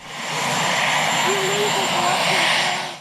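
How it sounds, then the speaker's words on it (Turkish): Helicopter carrying Donald and Melania Trump to Andrews military base, heard as a loud, continuous engine and rotor roar that holds steady throughout, with faint tonal sounds over it. "Donald ve Melania Trump helikopterle Andrews askeri üssüne geçti."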